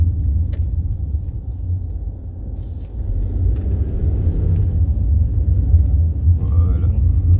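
Mercedes C300 4matic four-cylinder engine running at a steady low rumble from inside the car while driving, continuous and fairly loud.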